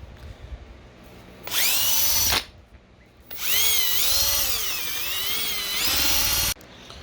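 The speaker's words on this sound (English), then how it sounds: "I'm just going to use this on my drill gun." A power drill whines loudly in two long bursts, its pitch wavering as the spinning polishing pad presses and rubs against touched-up paint on a Harley-Davidson motorcycle, with a brief pause between.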